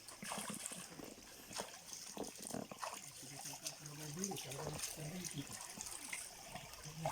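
Cold water flows and trickles steadily in an outdoor stream near a sweet potato field, faint and continuous beneath people talking and calling out.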